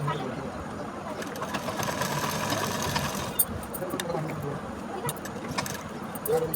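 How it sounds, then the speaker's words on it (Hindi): A sewing machine runs steadily, stitching a blouse seam a second time to reinforce it, with a continuous whirring hum throughout and a few small clicks near the end. "पक्की सिलाई के लिए हमें इस पे दोबारा सिलाई चला देनी है।"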